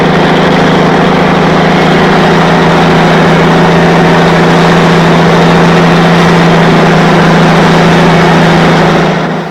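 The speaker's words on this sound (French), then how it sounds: "Avec le tracteur de son père, Daniel Lapointe aménage un fossé sur sa ter" A tractor engine runs steadily and loudly while digging a ditch on farmland, a constant droning rumble with no talk, fading slightly at the very end.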